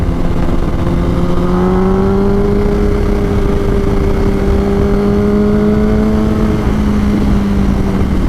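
A 2006 Yamaha R1 motorcycle engine hums steadily while cruising in second gear, a smooth sustained drone with a gently rising and settling pitch, loud and close with continuous wind rush and no voices.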